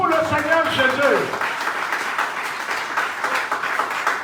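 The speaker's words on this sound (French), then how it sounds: "Give Jesus Christ a clap of praise." Congregation at an evangelical crusade in Sokode, Togo clapping in praise, a broad wash of many hands sustained across the stretch, with a voice speaking or calling out over the first second.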